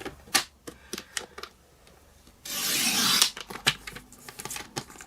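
Cardstock being cut into strips on a paper trimmer: sharp clicks and taps of lining up the paper, then a single smooth rasping blade slide lasting about a second, followed by more light clicks and handling, close by.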